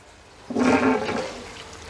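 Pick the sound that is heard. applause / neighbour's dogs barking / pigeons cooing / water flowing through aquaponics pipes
water flowing through aquaponics pipes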